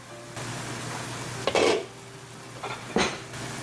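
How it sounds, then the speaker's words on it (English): Pork cooks in a pan on medium heat, a quiet steady sizzle broken by two loud metallic clatters as the lid is handled, with no talk. "Cooking our pork on a medium heat for 10 minutes"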